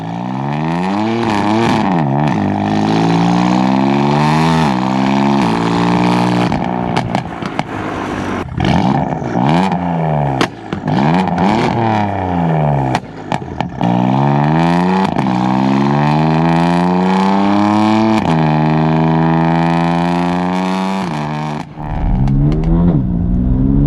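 A turbocharged BMW M4 F82 engine tuned to about 550 bhp accelerates hard, revving up through several gears in repeated rising sweeps with brief dips at each shift. It is loud and close, with no talking.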